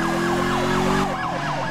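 Wailing police car sirens from a video game roleplay chase, a loud, continuous rising and falling tone that sweeps repeatedly over a steady hum, with no talking.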